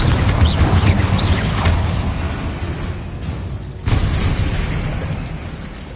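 Confringo blasting spells go off in Hogwarts Legacy during a spider fight: loud, roaring fiery explosions burst back to back, with a brief lull before another blast rumbles on.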